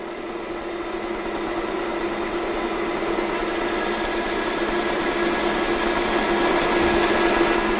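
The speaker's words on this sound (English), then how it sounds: "I'm going to keep on machining till I'm just past center." Steady mechanical whir and hum of a machine tool, likely a lathe, cutting a metal workpiece toward its center, continuous and fairly loud with a constant drone and no speech.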